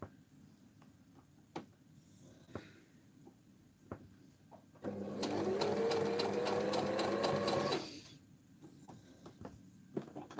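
A sewing machine stitches fabric while a dress-form pin cushion is being made: one steady burst of rapid, rhythmic stitching lasting about three seconds, close and clear, framed by faint handling taps and quiet room tone.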